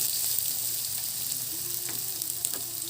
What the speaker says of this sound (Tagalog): Tapos ay isunod natin ang ating bawang.